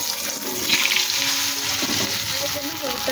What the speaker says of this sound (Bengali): এবার আলুগুলো এটার মধ্যে ভেজে নেবো